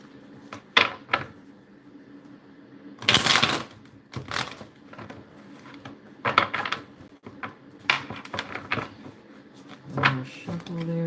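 Tarot cards being shuffled during a reading, heard as several short crisp riffling bursts spread through the clip, the loudest near the middle, with quiet pauses in between.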